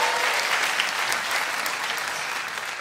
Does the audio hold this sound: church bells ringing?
no